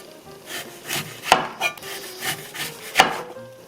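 Quiet, repeated knife strokes slicing a lemon on a wooden cutting board, with a few sharper clicks standing out among the soft slicing sounds.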